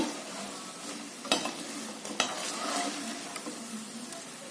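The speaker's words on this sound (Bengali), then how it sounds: "আমার বড়া ভাজা রেডি তুলে নেব" Fritters sizzle in hot oil in a pan, a steady bright crackle up close, punctuated by a few sharp knocks of a spatula or spoon against the pan.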